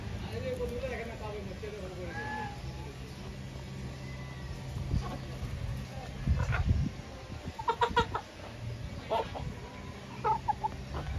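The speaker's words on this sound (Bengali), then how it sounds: "এগুলো লাল মুরগি" Red chickens cluck in short, scattered bursts nearby against a background hum at a village farmhouse. Brief voices and scuffling noises occur in the later part.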